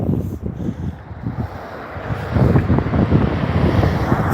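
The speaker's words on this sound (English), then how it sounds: "Sorry, it's so windy." Strong gusts buffet the microphone outdoors in Dublin city centre, a low rumbling roar that swells louder halfway through and stays steady, with no talk over it.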